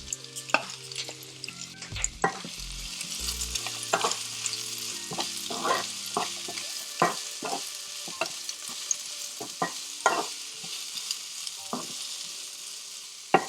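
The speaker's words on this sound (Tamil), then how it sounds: "சின்ன வெங்காயம் கொஞ்சம் ஃப்ரை ஆனதும் ஸ்லைஸ் பண்ண வெங்காயம் போட்டு ஃப்ரை பண்ணிக்கலாம்." Sliced onions, added after small shallots, sizzle in hot oil in a pan for a prawn thokku, with a steady frying hiss broken by frequent clinks and scrapes of a spoon stirring throughout, close and with no talking.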